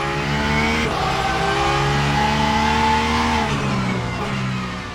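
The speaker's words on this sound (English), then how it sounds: "And that engine note is just gorgeous." Porsche 992 GT3 R race car engine in a racing sim video game, a loud sustained flat-six roar with rising harmonics through acceleration, a brief dip near one second, then climbing again before easing off at the end.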